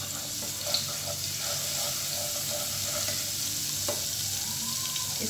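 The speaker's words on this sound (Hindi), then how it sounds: "लहसुन अदरक को हम अच्छी तरह फ्राई कर लेते हैं।" Steady sizzling of garlic and ginger frying in hot oil, with a faint clink or two of a utensil against the pan.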